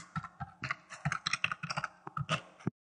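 Code is typed into Microsoft Visual Basic on a computer keyboard. A quick, fairly quiet burst of key clicks lasts under three seconds and stops abruptly, with no voices.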